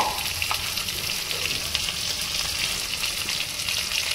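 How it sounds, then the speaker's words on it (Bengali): Turmeric is tipped into sizzling oil for a kabuli chickpea curry, producing a steady, close frying hiss with faint bubbling and occasional light clatter, and no voices. "আর একটু হলুদ দিয়ে দিলাম।"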